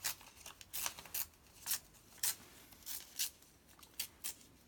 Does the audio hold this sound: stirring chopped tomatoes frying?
no